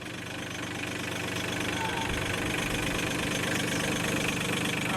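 A backhoe tractor's engine rumbles steadily and close by as the machine is driven forward and then back, with a continuous low, even drone throughout.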